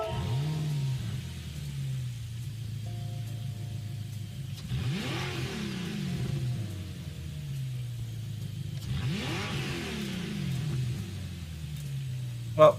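A swapped car engine in Gran Turismo 7 revs up through rising sweeps twice, pausing between pulls, a mid-pitched engine tone at moderate volume with a short sharp sound at the very end and no talking.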